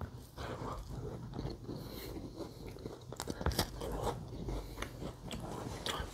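Close-up chewing and biting of chocolate bread from a bakery, with repeated soft crunches and wet mouth sounds in an irregular rhythm, heard alone without talk.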